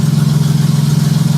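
A J35 engine fitted in a Baja runs at a steady idle, a loud, even mid-low drone with a fast regular pulsing throughout and no voices.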